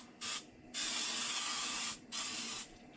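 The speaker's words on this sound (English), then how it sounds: "You just have to like pump it a little bit, get some pressure in there, and then you can spray" Three bursts of pressurized spraying hiss from a pump oil mister, a short one, a long steady one, then another short burst, close by, while cooking potstickers.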